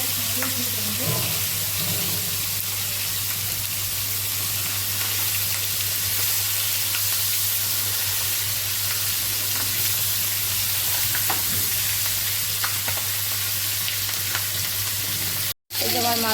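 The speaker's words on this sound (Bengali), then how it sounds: "এই যে মাছ ভাজা" Fish frying in a pan gives a loud, steady sizzle with no break, while a low constant hum runs beneath it and a few faint clinks and a stir sound near the start.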